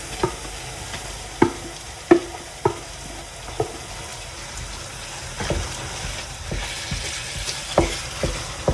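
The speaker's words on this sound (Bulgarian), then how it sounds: "След като лука получи желания цвят, добавяме и каймата, като бъркаме непрекъснато." Minced meat and onion frying in a pan while being stirred, with a steady close sizzle broken by repeated sharp scraping and clattering strokes of the spoon against the pan.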